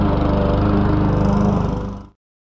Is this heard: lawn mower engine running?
yes